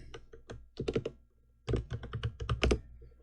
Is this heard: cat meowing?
no